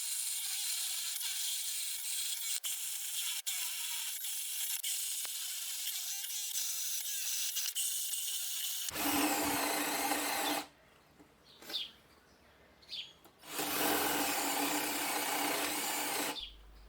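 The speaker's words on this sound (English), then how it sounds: "press gently and allow the drill to keep spinning at full speed" A cordless drill spins at full speed boring bench dog holes into a pine pallet workbench, a steady high motor whine running for long stretches, then louder grinding bursts broken by short pauses.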